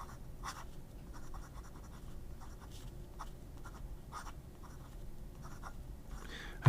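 A Majohn fountain pen with a steel nib, inked with Yamabudo, scratches across paper in short, quiet strokes with small pauses, close and soft.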